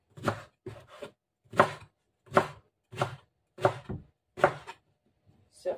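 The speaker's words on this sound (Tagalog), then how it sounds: "Tapos, hiwain po natin into cubes." A knife chops eggplant into cubes on a board, making about nine distinct, close thunks in an uneven rhythm, with pauses between the strokes and no talk.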